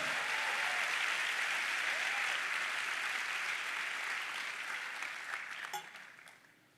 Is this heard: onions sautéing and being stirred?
no